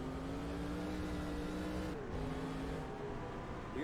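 A stock car in NASCAR Racing 2003 roars past at a 1992 Watkins Glen race, a loud steady engine drone with a pitch drop as it passes, alone without talk.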